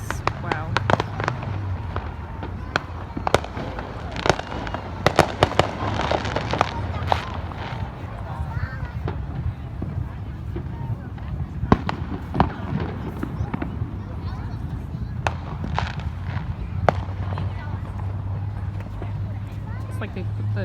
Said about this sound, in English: Like they put the trucks with the fireworks or the whatever all around the 2 buildings that are the hospital and just shooting them off.